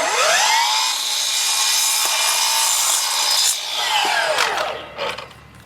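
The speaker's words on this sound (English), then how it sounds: "It's noisy to cut the aluminum" A loud, high-pitched power saw whines steadily while cutting through aluminum trim, then winds down with a few scraping clatters at the end.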